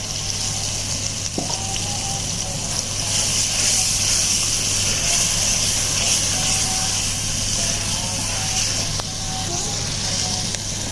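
Saag greens hitting hot fried masala in a pan give a steady, loud, dense sizzle and hiss that holds throughout, with faint clinks of a utensil now and then.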